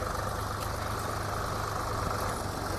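A tractor engine idling steadily on a village road, a continuous low rumble with a mid-range drone that stays constant and close throughout, no voices.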